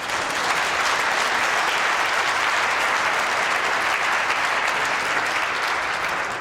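A crowd at a bowls match applauds a winning drawn shot at the Scottish International Open: dense, loud, continuous clapping that holds steady throughout.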